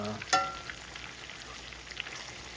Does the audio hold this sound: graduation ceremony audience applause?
no